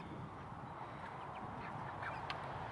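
Meat ducks in a homestead pen quack now and then over a low, steady background hum. The calls are scattered and fairly close, with a sharper quack near the end.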